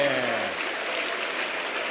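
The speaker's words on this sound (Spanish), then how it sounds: "Un aplauso para el más importante." Audience applause at a Spanish-language religious talk, a continuous broad wash of clapping filling the room, with a sustained tone fading out at the start.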